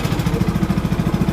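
A boat engine runs at a steady idle-like chug during a first test drive of a new boat, its rapid even pulsing loud and close with no talk over it.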